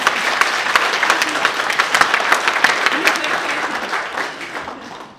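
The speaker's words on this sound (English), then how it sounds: "he deserves a big round of applause" A room full of wedding guests clapping loudly during a speech, the applause holding strong before gradually fading out at the end.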